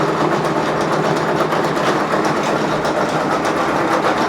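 Brother PRS100 embroidery machine stitching a design onto a jacket held in a 5.5-inch Mighty Hoop, a steady, loud, close mechanical whir with rapid needle pulses running continuously.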